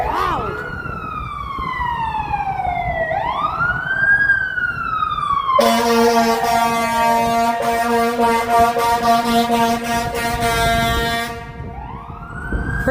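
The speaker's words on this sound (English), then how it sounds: "That honking so loud." A fire truck on a Toronto city street on a winter night wails its siren, then blasts a loud, sustained air horn in repeated pulses before the siren sweeps back in.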